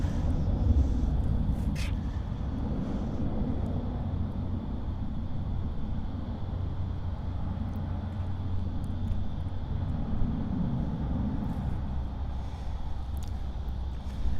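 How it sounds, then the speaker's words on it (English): A Rex Saab 340 turboprop lined up on runway 34 right at Sydney Airport, a steady low engine drone heard from a distance across the airfield, even and continuous throughout. "that Rex sub 340 that's going to be heading up to Armadale as ZL6954 is now lined up and ready to"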